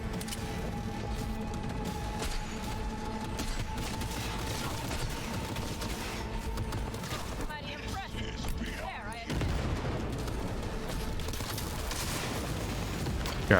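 Scoped pistol shots in Cyberpunk 2077, a few sharp reports over a dense, continuous game soundscape of hum and clatter, with a louder burst of mechanical noise near the end.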